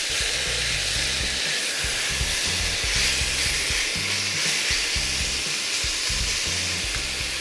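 Lamb and onions fry and brown in a pan with a dense, continuous sizzling hiss, loud and near throughout, with no voices.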